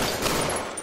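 Rapid burst of gunfire in the VR game Disassembly VR, a short dense rattle of shots lasting under a second, fairly loud and close with no talking.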